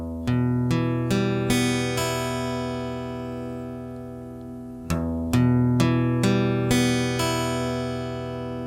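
A guitar chord picked one string at a time, each note ringing on into the next, then the sequence repeated after a pause, close and clean with no voices.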